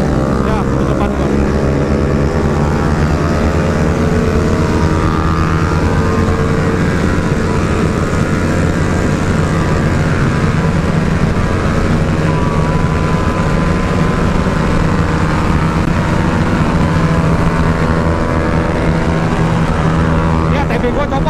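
A motorcycle engine runs loud and steady on a busy street, its throttle blipped and let off in pulses against heavy traffic, with voices talking over it throughout.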